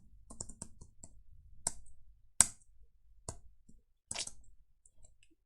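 Computer keyboard typing while coding, sparse individual key clicks spaced irregularly, fairly close and moderately loud, with no talking.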